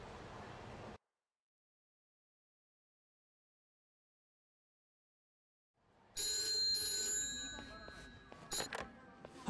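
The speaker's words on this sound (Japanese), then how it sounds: "俺宛てに電話がかかってきた" Telephone ringing in the video game Like a Dragon, a bright electronic ring bursting in loudly after a stretch of silence and repeating with sharp tonal pulses.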